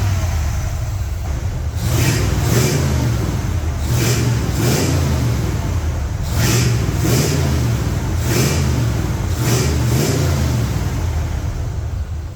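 An old Ford F100 truck engine revs hard over and over, about six surging roars rising and falling in a steady rhythm, loud and close, drowning out a belt squeal.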